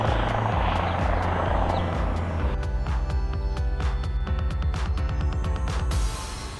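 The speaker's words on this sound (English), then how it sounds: "every damn minute there's a helicopter that flies overhead" A helicopter passes overhead on Governors Island in New York City. Its rotor throbs loudly and continuously with a deep rhythmic chop and a broad roar, staying near and strong throughout before easing slightly at the end.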